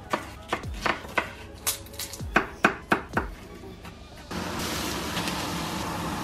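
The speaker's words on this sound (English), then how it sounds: "So we're gonna start boiling our rice and cutting up our peppers." Peppers being cut on a kitchen board, about ten sharp knife chops in a fairly regular rhythm, close and distinct, followed by a steady hiss like water heating for rice.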